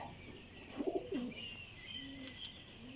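A female pigeon gives a brief, soft coo against a low, steady background hum.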